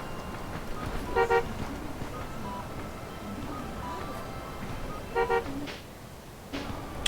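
Two short, tonal double-beeps of a car horn sound in a video game, a few seconds apart, over a steady low background rumble, with a fainter toot near the end.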